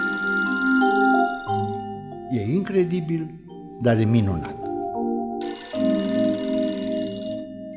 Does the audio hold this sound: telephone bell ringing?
yes